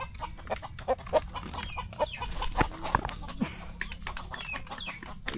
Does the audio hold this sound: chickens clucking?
yes